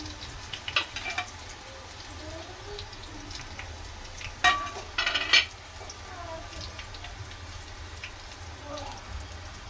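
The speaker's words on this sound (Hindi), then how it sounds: "तो डालेंगे कढ़ी पत्ता" Curry leaves drop into hot oil to temper a kadhi, a soft steady sizzle with a few brief louder crackling bursts in the middle and faint stirring, with no talk over it.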